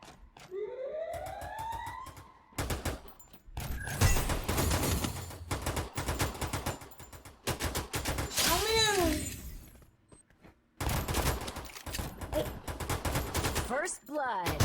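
FAMAS rifle fire in Free Fire, with loud rapid bursts of shots separated by short pauses, mixed with shattering impacts, a siren-like sweep and other game effects, under a talking voice.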